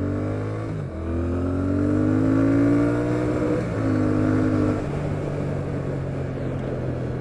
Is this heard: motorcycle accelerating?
yes